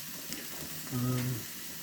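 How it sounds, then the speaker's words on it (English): Sliced mushrooms sear on a flat iron griddle, giving a steady close sizzle that swells briefly in the middle and then settles back. "we've got some mushies on the left hand side there, which are sliced up, so we'll let those have a bit of a cook"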